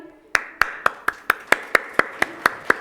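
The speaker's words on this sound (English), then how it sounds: "Give a big round of applause for our first program from our school." Clapping from the audience at a school annual day celebration: about eleven sharp, evenly spaced claps in a steady quick rhythm, close and distinct, with no talking.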